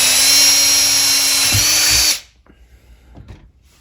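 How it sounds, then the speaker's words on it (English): A power drill boring a rivet hole in the aluminum skin of an Airstream trailer, a loud, steady high whine for about two seconds that stops abruptly, leaving faint handling clicks. "I'm going to drill my last hole"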